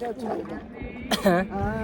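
A boat crosses the river at Devghat, with soft splashing and water movement under people chatting loudly close by.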